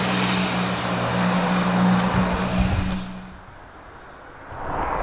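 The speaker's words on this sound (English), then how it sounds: "I start filming every traffic goes by, all the cars go past" Road traffic on a street in Winchelsea, cars going past close by with a steady engine and tyre wash that swells, then fades to quiet near the end before another vehicle approaches.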